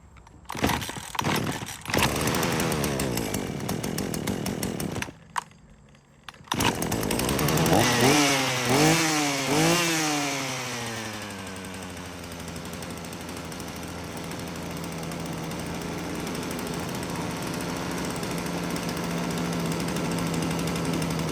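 A Husqvarna 120 chainsaw being brought back to life roars close by, revving up and down through several rising-and-falling sweeps after a brief cut-out, then settling into a steady, loud running drone.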